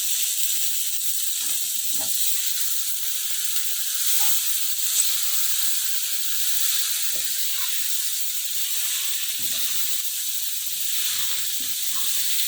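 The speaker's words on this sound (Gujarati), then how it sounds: "તેલમાં વઘાર બરાબર આવી જવો જોઈએ પછી સરગવાન જે સિંગો છે આપણે નાખશું અંદર" Drumstick pods tempering in hot oil for a Gujarati kadhi, a steady soft hiss of oil with a few faint stirring knocks and scrapes scattered through the clip.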